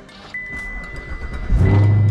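A Chevrolet Camaro engine cranks and fires up close by. It settles into a loud, deep, rumbling idle with a revving surge at the end.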